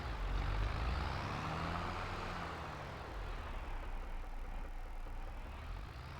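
A red tractor's engine runs steadily in a console farming game, a constant low rumble and drone with no talk over it.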